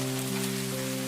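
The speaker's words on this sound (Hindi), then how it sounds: "शाम होते होते तेज बारिश शुरू हो गई।" Heavy evening rain pours down in a continuous dense hiss with a steady hum beneath it, short and unbroken.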